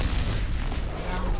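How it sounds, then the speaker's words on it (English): Dense, rumbling rocket-barrage explosions boom continuously in the Overwatch video game, a thick wall of overlapping blasts with voices mixed in. "Rocket barrage incoming."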